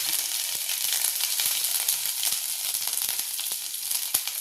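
Steady, crackling sizzle of mustard seeds and cumin spluttering in hot oil, with sharp pops scattered throughout, fairly close and continuous with no talking.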